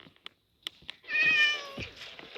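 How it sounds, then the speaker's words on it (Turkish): A cat meows in the Minecraft game world, a drawn-out call standing clear after a few short clicks, fairly close and with no talk over it. "Bir de 1 milyar tane kedi evleştirdim"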